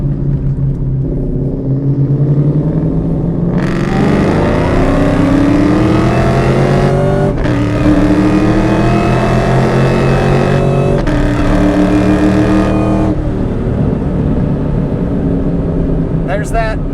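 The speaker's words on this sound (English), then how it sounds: "There's that supercharger whine, a great exhaust note." A supercharged V8 in a 2003 Ford Cobra revs hard and loud through several gear pulls, a rising exhaust roar with a faint supercharger whine over it, close and continuous.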